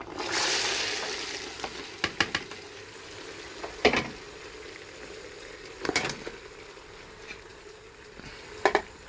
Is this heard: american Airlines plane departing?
no